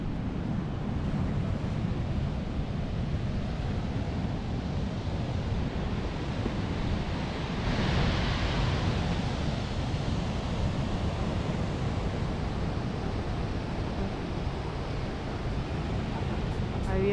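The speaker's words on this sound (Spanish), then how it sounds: "Está fuerte el mar el día de hoy, creo que hubo un aviso de las olas estaban muy fuertes." Strong ocean surf pounding the Pacifica coast during a high-wave warning, a continuous loud roar of breaking waves mixed with wind, swelling briefly midway.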